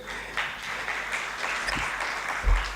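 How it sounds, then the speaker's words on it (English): Sustained applause from a room of workshop participants, a steady dense wash of clapping lasting throughout without pause, with no talk over it. "I think we can all clap for ourselves again because we have done very well."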